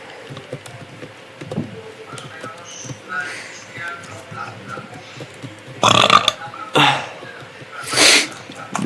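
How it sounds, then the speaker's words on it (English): A person burps loudly several times, with low throaty belches standing out against quiet background noise. "I just burped like crazy"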